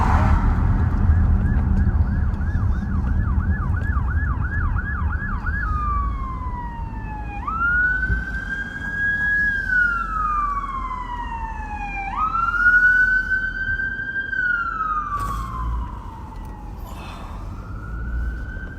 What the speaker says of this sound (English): I hear some sirens. You can probably hear them too.